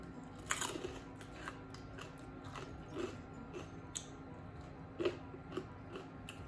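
Crispy pork rinds eaten alongside som tam are crunched close up, with a few sharp bites and crackling chews spread irregularly over quiet background, no talking.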